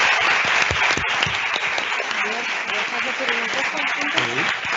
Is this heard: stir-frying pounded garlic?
no